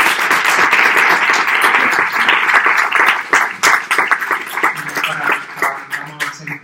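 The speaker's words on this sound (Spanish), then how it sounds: "Un aplauso." A lecture audience bursts into sustained applause, loud and dense clapping that carries on steadily before thinning slightly toward the end.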